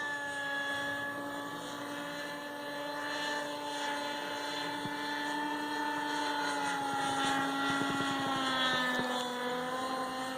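A Kyosho Caliber 30 RC helicopter flies steadily nearby, its rotor and small engine producing a sustained high whine with stacked harmonics that rise and fall slightly as it maneuvers, with wind noise underneath.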